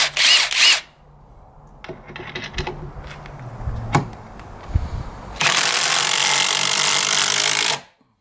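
Metabo HPT triple-hammer and Milwaukee Fuel impact drivers on high setting driving screws into wood: loud bursts of rapid hammering rattle, a short one, scattered clicks and thuds, then a long sustained run that stops abruptly.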